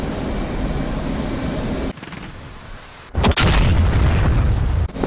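A loud explosion from a missile or bomb in the DCS flight simulator bursts through a steady engine drone, followed by a sustained rumbling roar.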